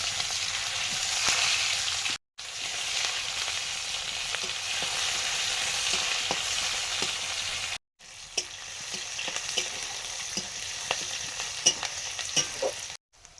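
Black cumin and chopped onion fry in mustard oil with a continuous close sizzle and repeated clinks and scrapes of stirring, cut by two short breaks of silence.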